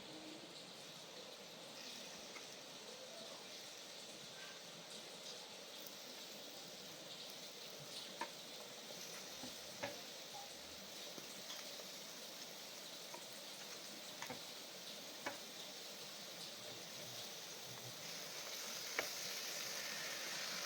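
Mutton added to a pan of hot home-ground garam masala, frying in a soft, steady sizzle with occasional faint pops and crackles, quiet and continuous without any talking.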